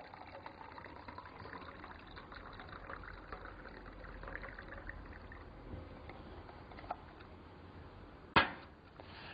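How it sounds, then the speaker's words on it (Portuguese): Hot water is poured from a thermos into a glass, a faint trickling stream running for several seconds at close range, ending with a brief sharp clink near the end. "Colocamos então a água quente em um dos copos."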